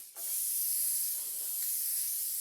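Spray adhesive hisses steadily from an aerosol can onto the back of a diamond painting canvas, one continuous close burst lasting a couple of seconds after a brief start.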